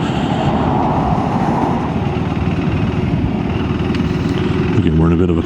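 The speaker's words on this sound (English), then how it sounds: "we're gonna hop on the interstate for the first time. Let's see how the 2025 KTM 390 Enduro" A 2025 KTM 390 Enduro R motorcycle rides along the interstate through a construction zone. It gives a loud, continuous engine drone mixed with heavy wind rush, steady throughout, with a brief rising whine near the end.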